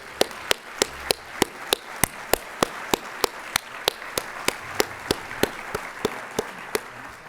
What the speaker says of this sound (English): Give a big hand of applause to Michael.